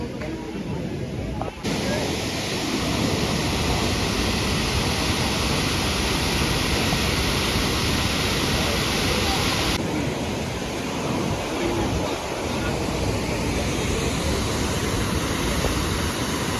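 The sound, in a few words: Dhuandhar waterfall on the Narmada River, Bhedaghat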